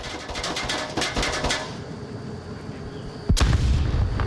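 Frag grenade explosion in a competitive shooter match, a sudden loud, deep boom near the end cutting through a stretch of rapid clattering gunfire and ambient battle noise, no talk.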